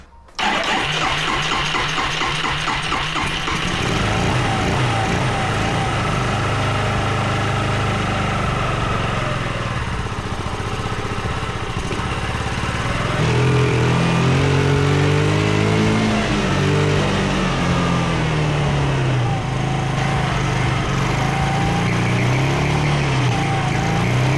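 A Yamaha Riva 125 scooter fitted with a Vino carburetor starts up and keeps running, a loud, close, steady engine drone that rises and revs partway through, with no talk.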